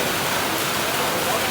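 Heavy rain pours down at Haridwar railway station, a loud, unbroken hiss of falling water that fills the whole moment without pause.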